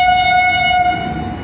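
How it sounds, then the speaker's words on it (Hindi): A passing freight train hauled by twin WAG7 electric locomotives sounds its horn in one loud sustained blast, heard close from a nearby train, fading as it ends. "अच्छा, कोई मालगाड़ी है।"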